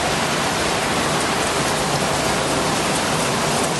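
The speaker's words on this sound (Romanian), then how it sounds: "La Cluj-Napoca a izbucnit o ploaie puternică." Heavy rain pouring down in Cluj-Napoca, a dense, loud and unbroken roar of drops hitting the street with no voices over it.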